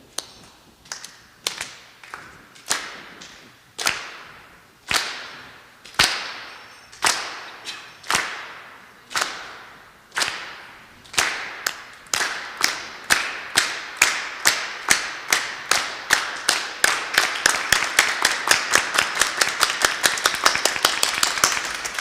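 A group at a kirtan workshop claps in unison, starting with slow, crisp, evenly spaced claps that gradually speed up into a fast, tight, steady rhythm, loud and close with no talking.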